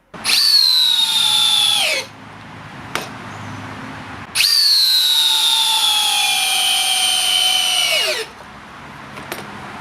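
Two long bursts of a high-pitched 36-volt Hikoki cordless hammer drill driving batten screws at full speed, each about four seconds, winding down sharply, with short clicks between them.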